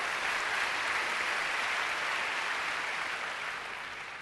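Sustained applause from a church congregation fills the space, a dense, steady wash of clapping that holds loud throughout and eases slightly at the end.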